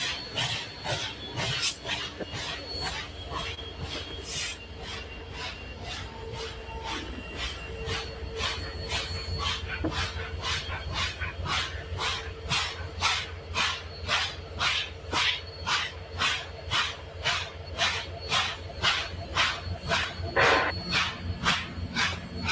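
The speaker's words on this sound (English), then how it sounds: "It just goes back to chuffing after that." The 2102 steam locomotive chuffs in a steady, rhythmic series of exhaust beats that grow more regular and slightly louder as it goes. Faint hiss and rail noise sit underneath the beats.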